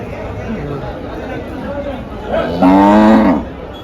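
A cow moos loudly and close by, one long low call near the end, over a background of people chattering at a busy cattle market in Dhule, India.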